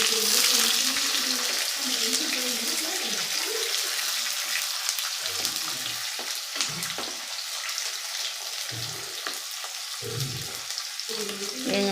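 Garlic, onion and green chillies sautéing in a pan for a Tamil drumstick-leaf stir-fry, a steady close sizzle and frying hiss running throughout with occasional stirring clatter and faint background voices.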